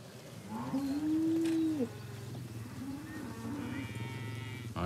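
A 13-year-old cow on a farm lets out one long, drawn-out moo, then gives a quieter, lower second moo a moment later. Both calls are fairly soft against a steady background.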